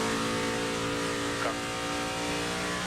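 Carl Edwards' NASCAR Nationwide Series race car at the 2009 Ford 300, engine droning loud and steady on pit road with a brief rising rev in the middle.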